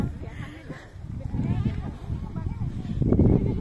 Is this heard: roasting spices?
no